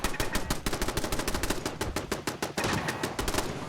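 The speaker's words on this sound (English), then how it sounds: "Shooting the stingwing population." A machine gun in the video game Fallout 4 rattles off rapid repeated shots at stingwings, a dense loud burst of cracks with a brief break partway through.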